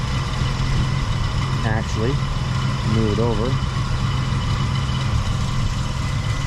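A 1976 Chevy Nova engine idles steadily with a constant low rumble throughout, while a person talks briefly over it.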